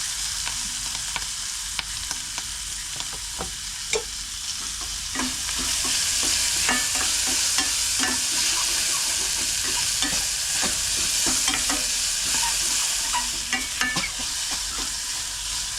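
Onion, green chilli and curry leaves frying in a pan while being stirred, a constant close sizzle broken by repeated scraping and tapping strokes of a spoon.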